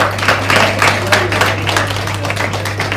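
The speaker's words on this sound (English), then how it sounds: "Can we have a round of applause, please?" An audience at a National Handloom Day conference applauds with steady, moderately loud clapping for about three seconds, set over a low electrical hum.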